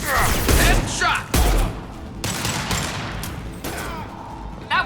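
Gunfire in the Mass Effect 2 video game: several sharp bursts of shots and impacts in quick succession, loud and close, mixed with game voices talking.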